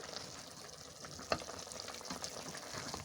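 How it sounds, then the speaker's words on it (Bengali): Mixed vegetables with dried chela fish shutki cook and get turned over in a pan, a soft, low simmering fry with faint scraping and one brief knock, quiet and close, with no voices. "আমি এভাবে সুন্দরভাবে নেড়ে চেড়ে নিচের অংশ উপরে নিচ্ছি উপরের অংশ নিচে নিচ্ছি"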